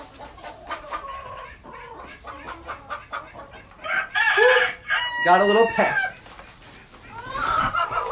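Chickens in a backyard coop, among them an Old English Bantam, a naked neck and a white leghorn, cluck and squawk loudly and close by, with a crow near the middle, while a person talks over them during egg collecting.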